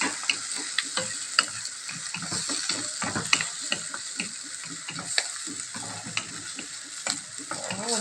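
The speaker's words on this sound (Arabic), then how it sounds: "احنا كل ده لسه بنقلب في البصله مع القوانص" Onion and chicken gizzards sautéing in a pan, a busy close sizzle broken by frequent scraping and clacking as a utensil stirs them, steady throughout with no talking.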